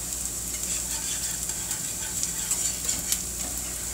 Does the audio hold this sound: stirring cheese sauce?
yes